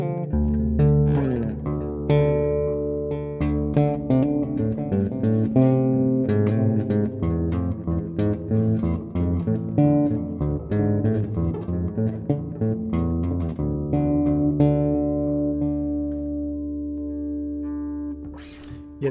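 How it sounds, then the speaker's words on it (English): Bass guitar with a J style pickup, played through a Caline CP-59 Press Pass bass DI/distortion box, plucks a run of close, loud notes with a hard, slightly honky attack, playing alone for about twenty seconds. "the J style pickup on this bass is an acquired taste, or at least it sounds like that with this DI box"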